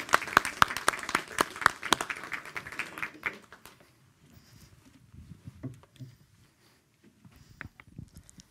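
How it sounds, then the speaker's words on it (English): A round of applause from an observatory audience at a public science evening, loud and dense for about three seconds, then thinning into scattered claps and shuffling as it dies away. "A big round of applause for Tricia"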